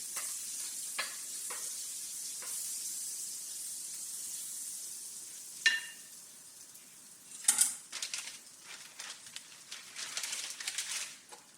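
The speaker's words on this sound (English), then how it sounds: "putting in some butter in my pot." A little butter melts in a pot for a meat pie filling, giving a soft steady sizzle and hiss with occasional stirring scrapes and light clinks, fairly quiet.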